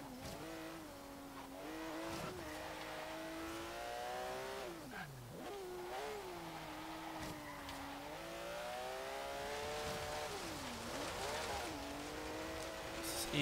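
A 1973 Porsche 911 Carrera RS in a Forza racing game at an autocross, its high-revving engine howling loud and continuous, pitch climbing and dropping sharply through gear changes and lifts, with brief tire squeal.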